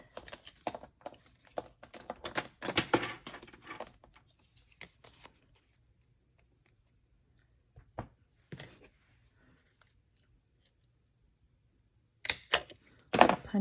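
Paper being cut for a handmade card craft, with a burst of crisp snipping and rustling early on, then scattered light clicks and a final cluster of cuts near the end, fairly close and with no talking.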